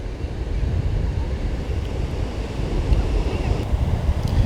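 Surf washing onto a sandy beach on Mustang Island, Texas, a steady roaring wash of waves mixed with wind buffeting the microphone, continuous and fairly loud.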